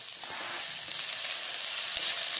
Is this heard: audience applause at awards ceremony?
no